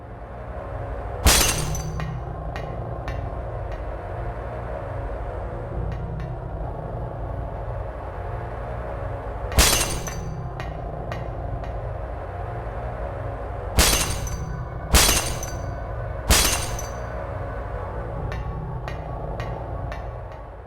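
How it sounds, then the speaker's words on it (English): Crashes of breaking, shattering glass burst out at irregular intervals in a Silent Hill 1 hospital room, four or five sharp loud impacts over a steady low droning rumble with no one speaking. "what can be heard is the constant sound of breaking glass"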